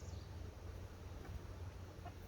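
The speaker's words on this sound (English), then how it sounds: "What's up, Grandpa Chicken?" Chickens cluck faintly in a backyard garden, a few soft, scattered calls over a steady low hum with no voices.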